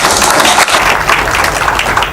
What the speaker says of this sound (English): bring a round of applause